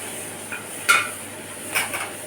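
Coriander and curry leaves being dry-roasted in a large pan for homemade sambar powder, with soft rustling and a few sharp metallic clinks of stirring against the pan, no voices.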